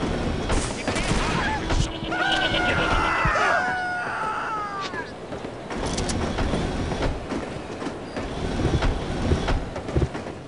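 Interior ambience aboard a moving train in the video game No One Lives Forever: rumbling, rattling carriage noise with sharp clatters and bursts that could be gunfire, and a brief wavering whistle-like tone early on, all busy and close.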